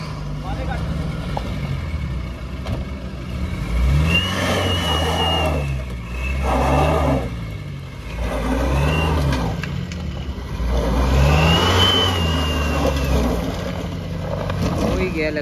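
A Mahindra XUV700 engine revs repeatedly while crawling an extreme off-road track, several rising and falling surges close by, with people talking over the engine noise.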